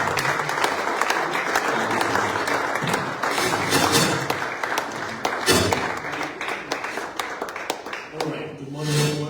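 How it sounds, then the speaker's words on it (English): Church congregation gives a sustained round of applause to welcome a reverend to the stage, dense clapping filling the room with voices calling out beneath it before it fades and a speaker begins. "just give a round of applause"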